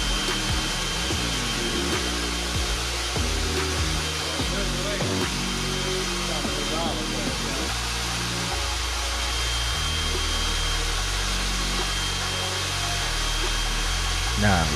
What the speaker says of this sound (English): Let's go ahead and hit the mix button.